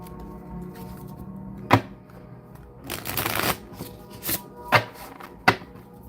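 A Light Seers Tarot pocket-edition deck is shuffled by hand, with soft riffling bursts and a few crisp slaps of cards knocking together, close and fairly quiet.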